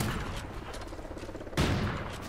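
Gunfire from a multiplayer team deathmatch video game: a sustained patter of shots and mechanical clicks, then a single louder, closer blast near the end of the clip, with no talking.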